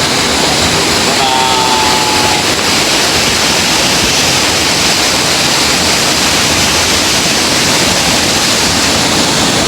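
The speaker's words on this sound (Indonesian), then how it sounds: "Nah, ini air terjun Pengantin." Pengantin waterfall inside Goa Pindul cave in Yogyakarta roars as a loud, steady broadband rush of falling water, continuous throughout with no break, a brief faint tone early on.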